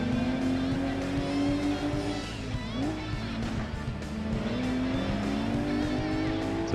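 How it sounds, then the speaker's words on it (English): A modified Porsche 911 Turbo fitted with a turbo kit races in Gran Turismo 2, its engine droning steadily with rising and falling pitch as it shifts gears, with brief tire squeal, loud and continuous. "It's a Porsche 911 modified with applied turbo kit."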